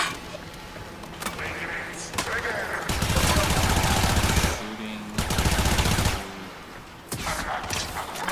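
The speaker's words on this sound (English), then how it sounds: "shooting." Sustained automatic gunfire in the Warframe video game comes in several long, loud bursts, with short breaks between volleys and some game effects underneath.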